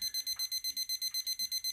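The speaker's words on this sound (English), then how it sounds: "It's just triple beeping constantly all the way." A Digi-Tech calculator watch alarm sounds a steady run of short, shrill electronic beeps, repeating evenly and closely spaced, with no talk over it.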